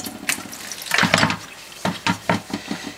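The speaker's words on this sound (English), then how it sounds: "the rinse water is running completely clear." Rinse water runs off hand-dyed yarn colored with black food coloring, a close watery rush broken into uneven splashing bursts, then short rhythmic pulses of pouring, with no one talking.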